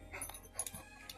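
A dog whimpers and whines for attention in short, faint, high-pitched bursts at close range, with a person's voice briefly mixed in.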